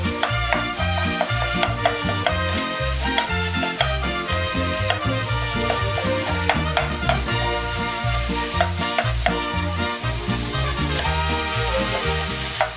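Lean ground beef mixed with pork sizzles and browns in a pan, a dense continuous frying crackle with repeated scraping stirs as the meat is broken up, close and alone.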